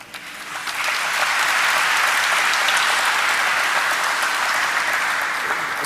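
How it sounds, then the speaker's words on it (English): Loud, sustained applause from an audience at the stock listing ceremony of ideaForge Technology Limited, rising quickly after a brief opening and holding as a thick, even wash of clapping. "keep clapping"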